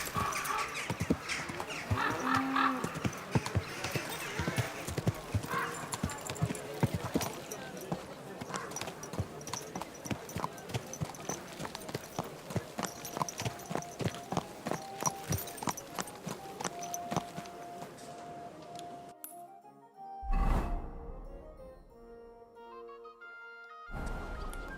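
Horse hooves clip-clop in Kingdom Come: Deliverance 2 at a steady, close trot for about twenty seconds under a musical bed, then fade out and give way to quieter sounds.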